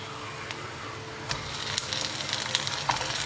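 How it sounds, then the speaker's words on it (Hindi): Chicken frying in an onion, ginger and garlic paste for biryani gives a steady close sizzle with occasional crackles and stirring scrapes, and no one speaks. "और इसको अच्छी तरह भून लेंगे।"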